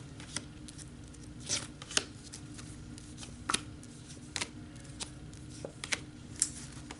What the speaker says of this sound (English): So I have shuffled and cut the cards.